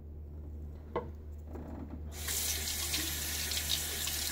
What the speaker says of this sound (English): So now 3 teaspoons of water in there.